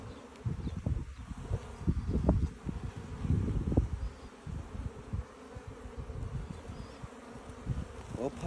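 Honey bees buzz steadily around an open hive during a mite check, a close, continuous droning hum with swells as individual bees pass near, alongside some handling noise.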